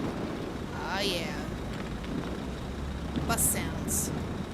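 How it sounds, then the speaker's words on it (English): A city bus passes on a street amid traffic noise and wind, with a rising then falling engine whine, a few sharp high squeaks near the end, and people talking nearby. "Bus sounds."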